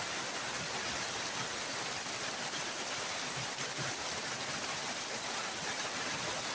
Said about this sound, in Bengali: টিপ টিপ বৃষ্টি পড়ছে